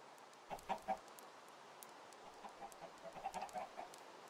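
Chickens in a video game cluck in short, soft bursts, scattered irregularly and heard faintly at a distance with no talking.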